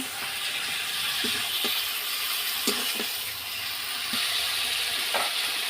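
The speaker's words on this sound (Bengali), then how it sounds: "মাংসটা ভালোভাবে কষাচ্ছি, খুব ভালোভাবে মাংসটা কষাতে হবে" Poultry chicken pieces sizzle and fry in a hot pan while being stirred, a steady close hiss of oil with occasional scraping knocks from the stirring, no voices over it.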